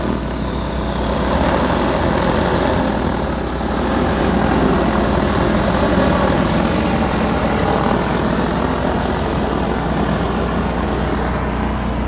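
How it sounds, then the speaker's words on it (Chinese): A giant heavy-lift drone flies over a mountaintop, hauling stones for road building; its rotors give off a loud, continuous droning roar that holds steady throughout with no voices. "那种巨型无人机"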